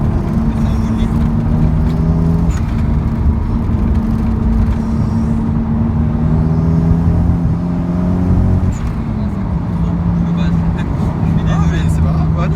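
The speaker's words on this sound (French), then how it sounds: "il y a l'admission, les turbos, on les entend bien en plus" A Toyota Supra bi-turbo engine heard from inside the car, a loud steady drone with intake and turbo whoosh rising and falling as it pulls, with people talking over it throughout.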